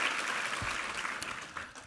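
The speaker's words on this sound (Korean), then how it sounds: "한번 힘찬 격려의 박수" A church congregation applauds at a Sunday worship service, a short burst of steady clapping from many hands, moderately distant and fading at the end.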